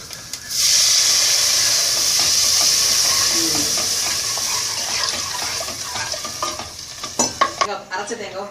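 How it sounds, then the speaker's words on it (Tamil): Tamarind water is poured into a simmering kara kuzhambu, setting off a loud, steady hiss and sizzle of liquid hitting the hot pot, then breaking into stirring and bubbling clatter near the end. "புளி தண்ணி விட்டதுக்கு அப்புறமா"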